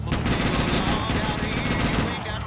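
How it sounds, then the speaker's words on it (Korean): Rapid automatic gunfire sprays continuously in the game GTA Chinatown Wars, loud and sustained, with dense repeated shots filling the whole stretch. "그는 갑자기 레드넥의 빙의한 대사를 날리며 총기 난사를 하기 시작했습니다"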